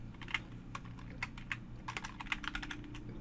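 Fast, close clicking of keys on a computer keyboard in short irregular bursts over a low steady hum, with no one speaking.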